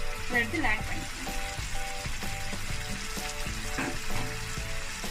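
Chopped capsicum sizzles in a pan with Maggi masala noodles and is stirred through. A steady frying hiss runs throughout with occasional spatula scrapes, and a faint tonal hum sits underneath.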